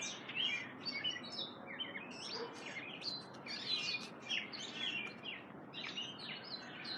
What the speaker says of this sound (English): Now listen to the birdies for a while.